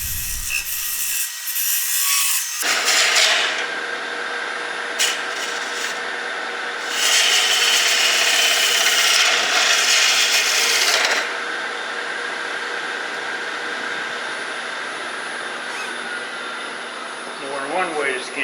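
A walnut bowl being turned on a lathe, a steady whirring hum with bursts of scraping and cutting as a point tool grooves into the spinning piece.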